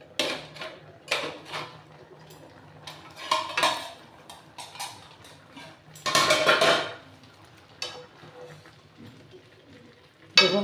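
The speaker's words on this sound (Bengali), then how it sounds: "দেখুন এরপর আমি ঢাকাটা খুলছি।" A metal lid is lifted off a pot of sweet and sour mango pickle cooking over low gas, with clanks and rattles of cookware coming in short, separate bursts.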